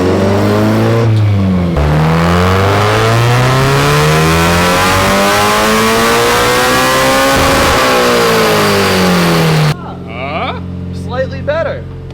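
An older naturally aspirated car engine with individual throttle bodies revs on a dyno, rising and falling in loud, sweeping pulls with a raspy intake note, then drops to a lumpy idle as people talk over it.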